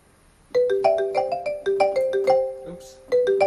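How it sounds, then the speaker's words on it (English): Live piano in a solo dueling-piano show plays a bright, bouncy ringtone-like melody of crisp repeated notes, steady and close, with a short pause and a faint murmur before the tune resumes. "And the piano, it sounds like a ringtone."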